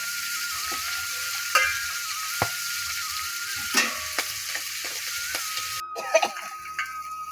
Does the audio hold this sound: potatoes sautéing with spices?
yes